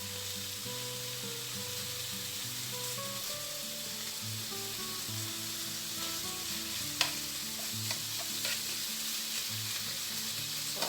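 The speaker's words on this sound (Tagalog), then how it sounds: "Piprituhin lang natin ang ating bacon, chef, hanggang sa lumabas ang kanyang sariling mantika or hanggang sa mag-crisp and golden brown siya" Bacon sizzles and fries steadily in a pan while being cooked until crisp and golden, a constant close crackle with bits of tonal music running underneath and a couple of small clinks near the end.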